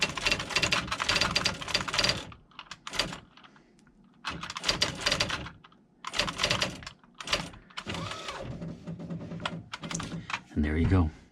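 An IBM Wheelwriter 30 daisy wheel electric typewriter types in rapid loud bursts, dense clatter separated by short pauses, with a mechanical thunk near the end.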